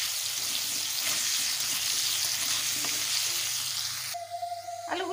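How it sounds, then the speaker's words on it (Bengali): Potato pieces seasoned with turmeric and salt frying in oil for a Bengali aloo shing fish curry, a dense close sizzle with light stirring, ending abruptly with a quieter tail. "আলুগুলোকে ভালোভাবে ভেজে নেব।"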